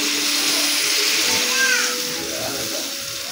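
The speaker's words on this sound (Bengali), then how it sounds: "একটু জল দিয়ে দেবো।" Water added to a cooking pan of potato, eggplant and ridge gourd, a loud close hiss and splashing pour that holds steady before easing off, with faint voices underneath.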